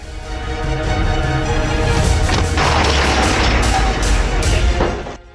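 Heavy artillery fire from a North Korean Koksan gun: a loud, sustained roar of booming blasts and rumbling echo that swells and then fades out.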